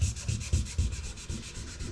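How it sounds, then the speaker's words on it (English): Sandpaper of 320 grit rubs dry over car paint on a 1971 VW Super Beetle, a close, rhythmic back-and-forth scratching of about eight quick strokes. "just dry sanding it like that."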